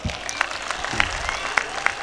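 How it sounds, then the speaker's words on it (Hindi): A crowd at an outdoor political rally claps in a thin, uneven patter, with a few sharper claps standing out against a noisy open-air background. "एक जोरदार ताली हो जाए"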